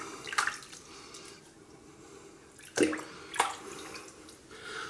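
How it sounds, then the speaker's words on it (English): Water rinses shaving lather off the face after a pre-shave routine with a silver-tipped brush, coming as a few short splashes and pours against a quiet, wet background. "Let me wash that off."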